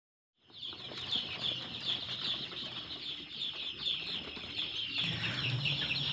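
Day-old KUB chicks are moved into a coop. A dense, constant chorus of high peeping from many birds is mixed with rustling and wing flutters. It grows busier toward the end, with no talking.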